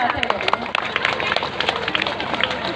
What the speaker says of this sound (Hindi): जोरदार तालियों के साथ इनका अभिनंदन। तालियां बजती रहनी चाहिए